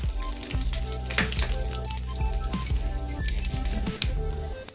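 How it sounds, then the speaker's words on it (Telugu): Curry leaves and tempering spices crackle and sizzle steadily in hot oil in a pan for a brinjal yogurt curry. Dense frying hiss runs throughout, with sharp pops scattered across it and nobody speaking. "పోపు వేగిపోయింది"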